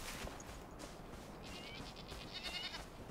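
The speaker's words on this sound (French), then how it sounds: "Bonjour les chèvres, ne vous inquiétez pas." Goats bleat in the survival video game Enshrouded, short high calls popping up a few times over a steady background of ambient game noise, moderately faint and with no talking.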